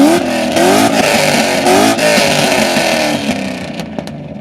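A first-generation Cadillac CTS-V's engine revs loudly and close by, with rising and falling pitch sweeps across several seconds before easing off near the end.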